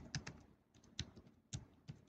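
Code is typed on a computer keyboard during a Flash/Animate ActionScript session, sparse close key clicks in small irregular clusters about half a second apart, quiet with no talk.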